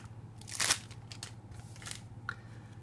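A Magic: The Gathering Commander 2014 deck package being ripped open, with one sharp crinkly tear followed by softer plastic crackles, close by over a low steady hum.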